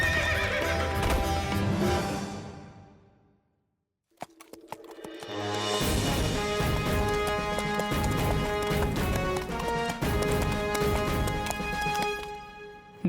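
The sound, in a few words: horse neighing and galloping, cartoon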